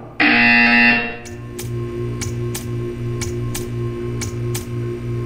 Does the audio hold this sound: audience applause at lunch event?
no